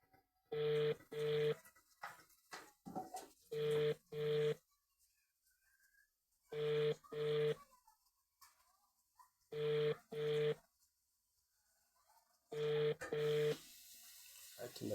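Telephone keypad tones beep in repeated pairs of short, loud, evenly spaced bursts while a number is dialed to call someone back, separated by brief gaps of faint background noise.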